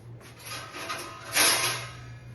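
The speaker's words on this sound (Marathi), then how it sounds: "पोळी लाटून घेऊया हे बघा मी एक ओढं पीठ लावून पोळी लाटत आहे" A rolling pin rolls out puran poli dough dusted with flour, making soft, faint rubbing and scraping strokes with a brief stronger swipe midway, under a low background hum.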